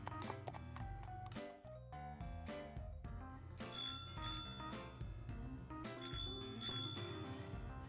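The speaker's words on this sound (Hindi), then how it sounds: "साइकिल रिक्शा, बहुत ही मजे की सवारी होती है ये।" A cycle rickshaw's bell rings repeatedly in quick bright dings, layered over background music with sustained tones.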